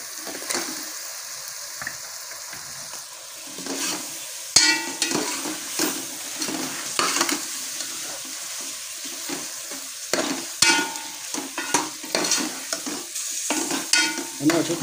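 Chicken being fried and stirred in ghee with masala, a continuous sizzle broken by repeated scraping and stirring strokes of a spoon against the pan, close and fairly loud.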